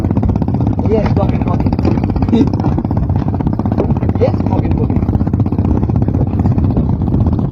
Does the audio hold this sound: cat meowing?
no